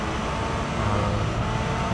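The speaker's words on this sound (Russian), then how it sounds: "двигатель нашего лансера и турбину" Mitsubishi Lancer engine and turbo in Gran Turismo 3 run as a steady, dense broadband drone with a low rumble underneath, continuous and fairly loud throughout, with no voices.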